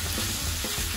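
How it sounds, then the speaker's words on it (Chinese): Minced meat sizzles steadily as it is stir-fried in a wok for Fujian-style fried tapioca noodles, a dense continuous frying hiss with no one talking. "我炒香这个肉碎"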